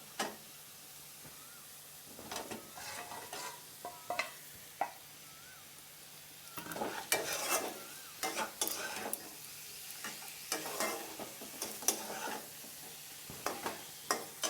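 Masala being sautéed and stirred in a pan with a fried fish head for cabbage curry, with soft sizzling and intermittent scraping stir strokes that grow busier midway, no talking.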